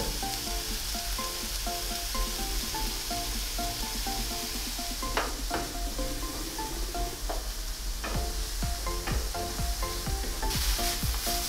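Chopped onions with salt sizzle steadily in a hot pan, a continuous hiss broken by repeated scraping stirs, close and fairly loud with no voices.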